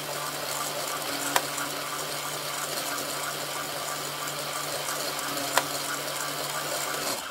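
A circular sock knitting machine, an Addi or Sentro, cranks steadily with a continuous whirring mechanical drone, with two sharp clicks standing out, and no talking.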